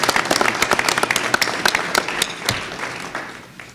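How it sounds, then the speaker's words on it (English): A small audience at a UMass Lowell evening event claps for the poster teams, a dense patter of many hands at close range that holds steady and then thins out near the end. "give a round of applause to the teams who"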